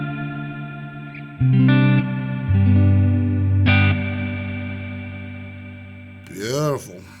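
Sustained guitar chords through a Hotone Ampero Mini reverb ring out drenched in lush reverb, notes blooming and decaying into a long wash, ending with a swirling pitch-bending flourish.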